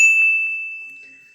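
A single bright notification bell dings once, close and clear, and its tone rings out and fades over about a second, with no one speaking.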